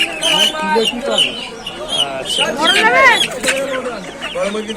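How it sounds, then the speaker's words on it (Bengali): Sonali chickens clucking and squawking at a busy rural poultry market, close and loud, with overlapping calls and bustle of people talking nearby throughout. "সোনালি মুরগি এগুলো কত করে"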